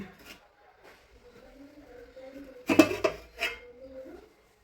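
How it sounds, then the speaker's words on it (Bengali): A metal cooking pot of biryani being opened after dum cooking, a sharp clattering clank of the lid followed by a lighter rattle, close by in a quiet kitchen with faint talk before it. "এবার হাঁড়িটা খুলছি।"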